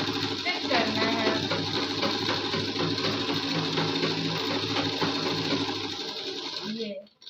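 A sewing machine stitches a suit kurti, running in one continuous buzzing whir for about seven seconds before stopping abruptly, with a voice faintly present underneath.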